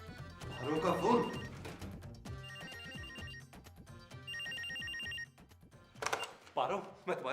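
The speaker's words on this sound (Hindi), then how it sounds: "पारो का फोन" A telephone rings in repeated electronic bursts during a comedy sitcom scene, loud and close, with short pauses between rings and a thump and voices near the end.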